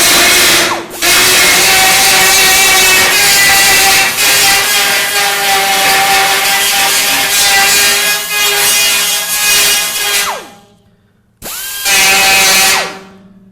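A carbide burr on a power tool grinds aluminum on a tank, tip coated with aluminum tap lubricant, a loud steady high-pitched whine that runs continuously, briefly drops out, then stops and restarts near the end.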